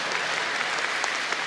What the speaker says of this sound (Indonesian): lagi tepuk tangan gak boleh.